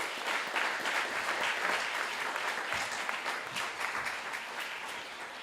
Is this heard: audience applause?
yes